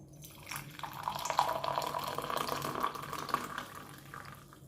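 Bay leaf and cinnamon tea poured into a teacup, a steady liquid trickle and splash that swells and then tapers off over several seconds, close and fairly quiet.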